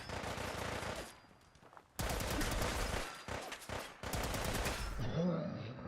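Loud bursts of gunfire and explosive blasts, including a rocket being fired, in the video game Fallout 4, coming in several separated volleys with brief gaps, near and harsh.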